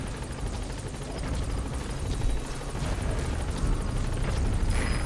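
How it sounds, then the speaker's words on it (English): A helicopter touches down in Metal Gear Solid 5: a loud, steady rotor roar with rapid blade chop fills the whole stretch, close and unbroken, swelling slightly toward the end. "the chopper's touching down"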